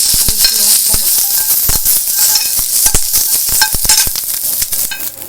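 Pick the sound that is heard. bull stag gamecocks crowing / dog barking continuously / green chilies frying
green chilies frying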